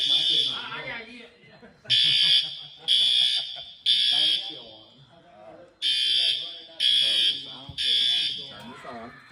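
A church fire alarm sounds in loud, steady electronic pulses, each lasting about a second, with short gaps between them. A voice talks through and between the blasts.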